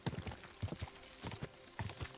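Horse hooves in the video game Kingdom Come: Deliverance 2, with quick, rhythmic clip-clop beats of a galloping horse, fairly faint and steady with no talking over them.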